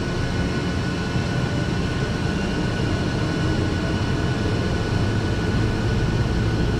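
A TBM 700 C2 turboprop engine starts up, a loud continuous roar and whine holding steady throughout, heard close and alone.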